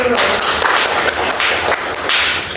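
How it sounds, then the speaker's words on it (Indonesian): A classroom group applauds a student team after their role-play, with dense broadband clapping running steadily through the whole moment and a few louder bursts near the start and end. "beri tepuk tangan dulu kepada kelompok 1"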